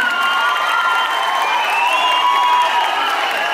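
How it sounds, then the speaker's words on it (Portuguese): Dense applause from an audience at a school talent show, steady clapping that fills the whole stretch with no voices standing out. "aplaudir."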